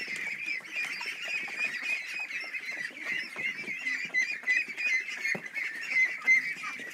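A flock of ducks in a barn quacks and honks continuously, many overlapping calls close by and fairly loud, with scuffling and shuffling underneath the chatter.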